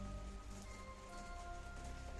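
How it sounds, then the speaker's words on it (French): Rain falling at night during a thunderstorm at a huge old abandoned cement works, a faint, steady patter of drops that runs without a break and has no talking over it. "Donc vous pouvez entendre aussi hein, qu'il pleut."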